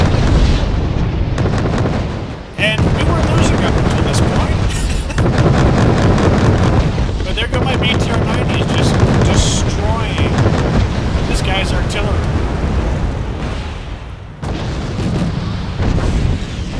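Artillery fire and explosions from a video game battle, a dense, continuous barrage of booms and blasts with brief lulls, loud and busy throughout, with some talk mixed in.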